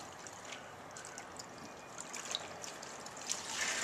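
Old cotton t-shirts are soaked in water for a worm composting bin, giving soft, close splashing and dribbling that continues steadily and grows slightly louder toward the end.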